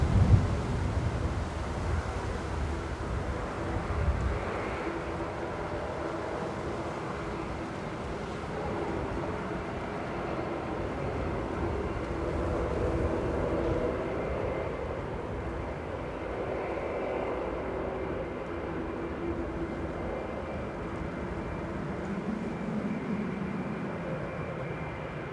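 Loganair airliner from Aberdeen at Manchester Airport, a steady broadband engine roar mixed with wind buffeting on the microphone, loud and continuous throughout with slow swells.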